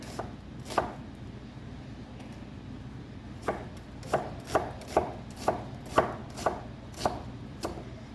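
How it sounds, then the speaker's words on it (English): An onion being chopped with a knife on a cutting board, close up: a few isolated cuts, then a steady run of about eight sharp, evenly spaced chops over quiet room noise, no talking. "Okay, so I'm gonna cut this onion up here."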